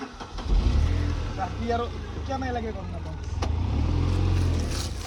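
A Tata Nano car engine turns over and settles into a low running rumble as the car moves off, under someone talking.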